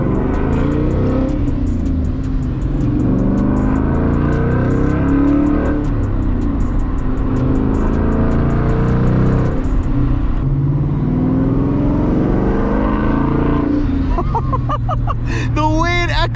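A Ford S550 Mustang GT 5.0 with an aftermarket exhaust rumbles and revs up close in a parking area, a deep, continuous throaty drone, with people talking over it toward the end.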